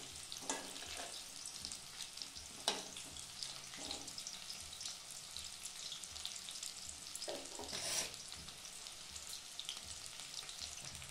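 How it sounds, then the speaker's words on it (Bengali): Chicken pakora frying in hot oil in a pan while being stirred and turned, giving a steady close sizzle with a few brief louder crackling bursts. "পল্টে পল্টে বারবার ভাজবো।"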